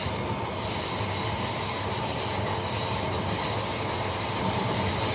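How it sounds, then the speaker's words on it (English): A train on the Armadale line in Gosnells runs at night during a line closure, giving a steady, loud rumble of wheels on rails with a faint squeal and no talk. "we're gonna follow the train down and see it use the crossover"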